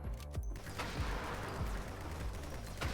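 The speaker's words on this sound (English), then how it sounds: "That assault rifle banging out there." Assault rifle gunfire in the game GunCraft Survivor, a dense, constant barrage of rapid shots and explosions rumbling at steady loudness throughout.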